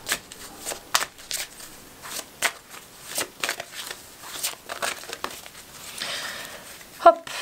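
Tarot cards shuffled by hand before one is drawn, a run of quick, soft riffling and flicking bursts close by, ending in a sharper snap of cards.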